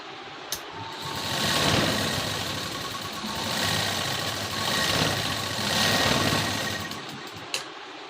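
Electric sewing machine running steadily while stitching tucks into a blouse, a continuous close motor whir with slight swells in speed and no talking.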